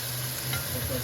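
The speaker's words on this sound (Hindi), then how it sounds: "इसको अच्छी तरह मिक्स कर लें।" Tomato paste being stirred into a frying pan of carrot and pea sabzi, a dense close sizzle with a soft continuous scraping under it, no voices.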